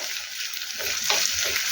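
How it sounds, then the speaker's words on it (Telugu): Onions sizzling in hot tempering oil for a Telugu home-style dish: a steady, close crackling hiss throughout that swells slightly toward the end, with no talking. "ఉల్లిపాయలు కూడా బాగా వేగాలి."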